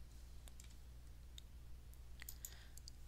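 Several faint, crisp mouse clicks come one after another over a quiet low hum, spaced irregularly as a user clicks through on-screen buttons in tax-filing software.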